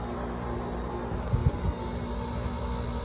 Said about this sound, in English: Angry compressor.